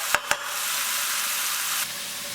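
Onions frying and caramelising in a hot pan give off a steady, close sizzle that runs almost without a break. Two sharp clicks come near the start, and the hiss drops slightly toward the end.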